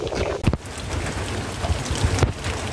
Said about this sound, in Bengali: বৃষ্টি ছাড়ে আবার বৃষ্টি শুরু হয়, বৃষ্টি ছাড়ে আবার বৃষ্টি শুরু হয়